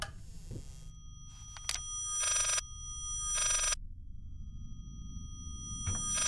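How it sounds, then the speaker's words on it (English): Reversed telephone ringing in the horror game Layers of Fear, heard as several bright, tonal bursts with gaps of silence between them over a low, droning room ambience. "like a phone ringing in reverse."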